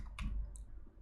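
A single faint mouse click, soft and short, followed by a brief higher tick, in a quiet room.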